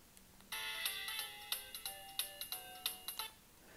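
A Siemens S65 mobile phone from 2004 plays a polyphonic ringtone during a sound test, a bright melodic run of rhythmic synth notes in repeated bursts, close and clear with no talking.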